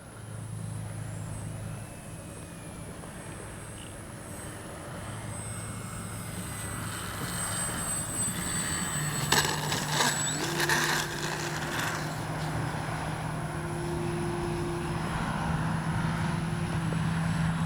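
FMS Ranger RC plane flying and coming in to land on a runway in a cross breeze, a steady electric motor drone with a thin high whine over constant wind and background hiss.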